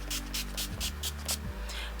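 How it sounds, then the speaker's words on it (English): A NYX matte finish setting spray misted over a face in several short, regular hissing bursts, close to the mic, over a steady low hum with no talk. "we're going to spray this all over our face"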